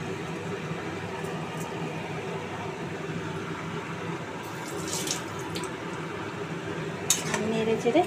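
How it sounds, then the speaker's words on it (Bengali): Fried rice goes into a pot of simmering water with potato and pointed gourd and is stirred, giving soft watery sloshing under a steady kitchen hiss, with a few light metallic clinks near the end. "এবার ভাজা চালটা এর মধ্যে দিয়ে দিলাম।"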